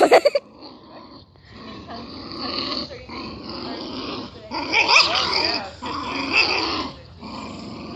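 A dog named Cub growls in a long, low, rumbling run that swells and fades like an idling motor, close by with a few sharper snarls, and no talk.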